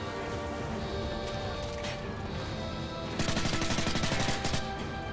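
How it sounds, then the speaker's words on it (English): Bursts of automatic rifle fire crackle in a Call of Duty: Modern Warfare 3 firefight. Steady gunfire runs under a noisy battle ambience, then a rapid, denser volley breaks out near the end. "Oh, he fired at me."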